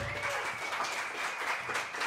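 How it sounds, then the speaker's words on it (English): Sustained applause from a live audience cheering a jazz quartet in a club, a dense, even wash of clapping that holds steady throughout. "Big round of applause."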